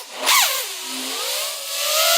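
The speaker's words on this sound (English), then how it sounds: "it's a little scary, actually, to punch it, because it just is going so much faster than a normal 5-inch" A 150g 5-inch long-range FPV drone at throttle makes a loud whooshing pass. Its high motor whine bends sharply downward in pitch, then climbs again as it spools back up, with no voices.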